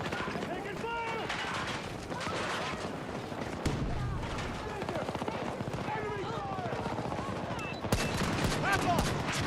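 Battlefield 2042 battle: continuous rattling gunfire and distant explosions fill a busy combat scene, with voices calling out over the noise throughout.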